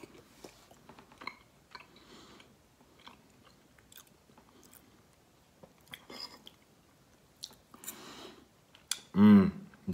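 Someone eating vintage sardines in oil: quiet, close biting and chewing with soft clicks and small wet crunches spread across the stretch, ending in a brief louder knock, with no talking.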